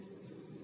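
A manual car's parking brake is released with a short, sharp ratcheting click at the very end, heard against a quiet low engine hum in the cabin.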